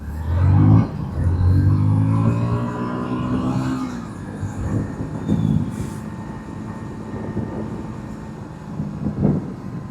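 A 160cc sports motorcycle cruises in fourth gear through traffic, its engine a loud steady drone with rising and falling pitch, wind rush and surrounding vehicle noise, no talk.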